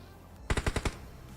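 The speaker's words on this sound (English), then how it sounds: "Yes, we see shots being traded already." A quick burst of five sharp gunshots in rapid succession in a battle royale video game match, loud and close, standing out against a quiet background.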